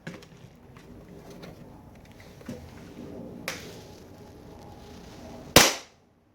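An airsoft G18 gas blowback pistol fires a single sharp crack into a chronograph, loud and close after several seconds of quiet room noise and small clicks. The pistol is loaded with 0.25 gram BBs and fitted with an upgraded hop-up bucking.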